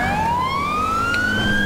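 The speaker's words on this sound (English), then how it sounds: "that siren too. I think it just sounds really good, way better than the vanilla game sounds" A police car siren in the GTA V mod LSPDFR, a loud continuous wail sweeping steadily upward in pitch over a low engine rumble, with no talking.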